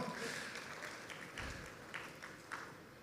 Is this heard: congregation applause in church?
yes